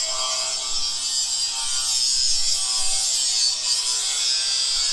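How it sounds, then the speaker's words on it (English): A continuous harsh, high-pitched grinding hiss of metal being ground on a Ford F1 truck chassis, steady and close for the whole stretch with no voices. "Grinding."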